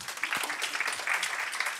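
Audience applause at a cancer forum conference in 2023, a steady wash of many hands clapping for a presenter, moderately loud and continuous through the short burst.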